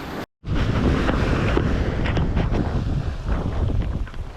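Wind gusting over open water with small ripples and waves, heard from a fishing boat out crab netting; steady, loud buffeting noise fills the whole clip after a brief dropout near the start, with no talking.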